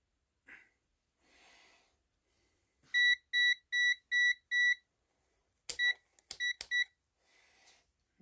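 An electrical tester sounds a run of five even, high-pitched beeps, followed by a few shorter irregular beeps, close and clear against near silence with faint breathing.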